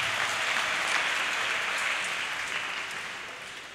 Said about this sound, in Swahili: Pigie Bwana makofi mengi mengi.